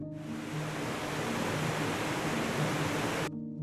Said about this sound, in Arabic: ده صوت الشلال